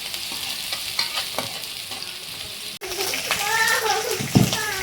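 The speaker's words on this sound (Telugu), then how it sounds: "ఉల్లిపాయలు కొద్దిగా బాగా ఎర్రగా వేగనిద్దామండి" Onions sizzle steadily in a hot pan with a constant hiss, briefly interrupted by stirring scrapes, while a voice speaks over the frying.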